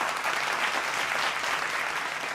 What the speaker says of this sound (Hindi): जोरदार तालियों से एक बार फिर अभिनंदन